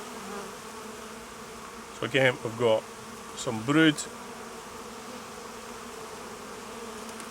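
Honey bees buzz steadily around beehive frames holding brood, honey and pollen, a close, continuous drone, while someone speaks briefly over it.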